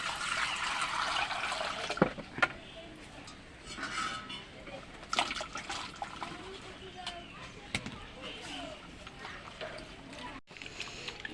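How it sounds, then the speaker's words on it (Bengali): Chopped elephant apple (chalta) pieces are rinsed by hand in a bowl of water for pickle, with soft sloshing, trickling and occasional knocks of fruit against the vessel, close and moderately quiet throughout. "এবার আমি চালটাগুলো ভালো করে ধুয়ে নেব।"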